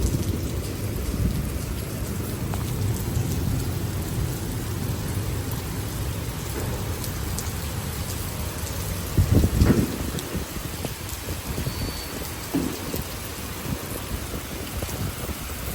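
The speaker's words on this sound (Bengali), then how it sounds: "প্রচণ্ড বৃষ্টি হচ্ছে।" Heavy rain pours steadily throughout in Jurong East, Singapore, with a deep roll of thunder rising briefly near the middle before the downpour continues on its own.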